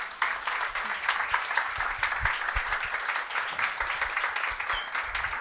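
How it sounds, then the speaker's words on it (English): A lecture audience gives a warm round of applause for the speaker, dense steady clapping from many hands throughout, fairly close and even in loudness, without speech. "A warm applause for Sandi Hilal"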